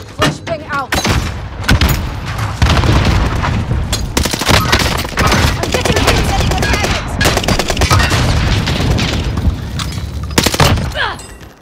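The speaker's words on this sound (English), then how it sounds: "Flashbang out." Dense gunfire and explosive bursts from a Vanguard video game firefight, including a flashbang grenade detonation, sustained loud rapid shots and booms throughout with a brief pause near the start.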